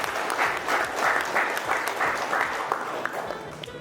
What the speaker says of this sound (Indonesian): Tepuk tangan lagi Bapak Ibu.